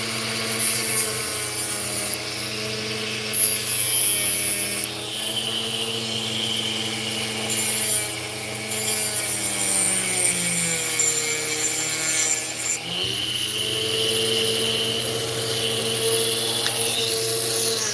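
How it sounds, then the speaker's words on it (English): A power drill whines steadily as it cuts, working on a truck, its pitch dipping and recovering under load in several long passes, with no talking. "Alright, let's get the drill on. Get the drill on. Alright. Let's do some cutting."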